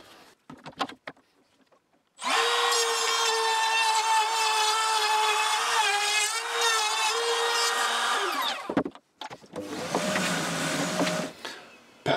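Edge router fitted with a circle-cutting attachment, whining steadily at high speed for about six seconds after a brief start, then stopping and running again for a shorter second burst; loud and close, with no talk.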